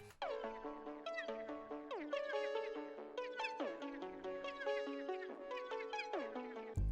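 A bright synth pluck counter melody from a hyperpop glitchcore track rattles off fast repeating figures in short bursts, the notes sliding and bending slightly, dense and upfront with no voices.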